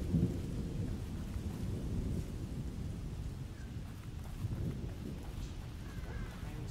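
Rumbling thunder rolls beneath steady heavy rain in a stormy forest scene of The Evil Within horror video game, a continuous low roar with no voices.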